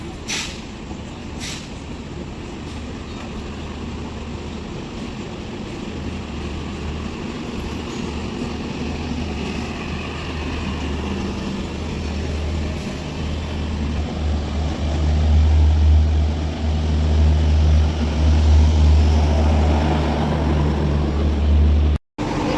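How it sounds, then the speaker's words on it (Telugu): Indian Railways special train 07046, Charlapalli to Naharlagun, at platform 1, heard as a low rumble that swells into a loud, heavy drone as it passes close by, then cuts off abruptly. "ప్లాట్ఫామ్ నెంబర్ 1 మీదకి ఒక ట్రైన్ వచ్చి డిపార్ట్ అవుతోంది."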